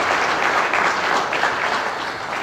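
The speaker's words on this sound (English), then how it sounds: "get another applause" Steady applause from an audience at a New Jersey liquor retailers association meet and greet, sustained and dense throughout with no talk over it.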